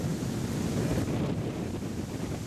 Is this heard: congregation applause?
no